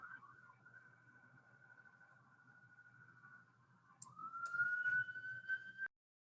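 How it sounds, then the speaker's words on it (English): Siren wailing outside in a downtown area, a sustained tone that rises in pitch and grows louder toward the end before cutting off abruptly, with faint background rumble. "The sirens are going crazy here."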